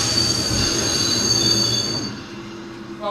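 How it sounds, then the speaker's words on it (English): A train's air brakes grab hard and the wheels squeal loudly on the rails, a shrill sustained screech over rumbling boxcars that fades after about two seconds. "That train jammed on its air brakes and jarred everyone in that boxcar off his feet."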